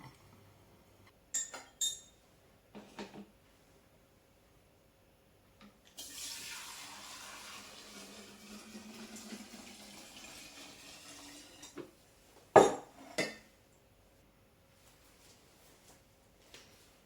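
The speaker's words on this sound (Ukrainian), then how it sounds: "Розводимо дистилят і розливаємо в банки по півтора літри." Diluted distillate is poured into 1.5-litre glass jars for a nocino walnut liqueur: a soft pouring stream lasting several seconds, framed by scattered clinks and knocks of glass, quiet and close with no talk.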